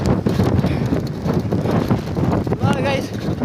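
Strong gusting wind roars across a microphone outdoors, strong enough to stop someone pedalling a bicycle, with a brief voice near the end.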